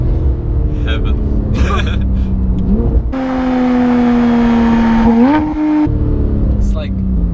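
Porsche 911 GT3 engine revs hard, its pitch climbing and holding in a loud, sustained high-rpm wail that steps up again before dropping back, with people talking over the car before and after.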